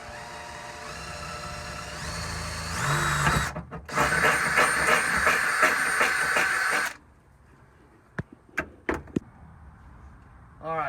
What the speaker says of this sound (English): we're just gonna drill it like this now